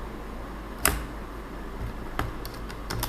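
Keys clack on a computer keyboard as code is typed, a few sharp isolated taps followed by a short quicker cluster, close and fairly quiet with no talking.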